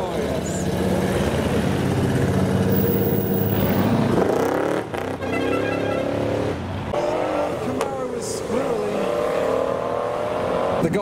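A gasser custom car pulls in at a car show exit, its loud engine revving and droning close by, with other traffic cars roaring past and voices calling out over the noise.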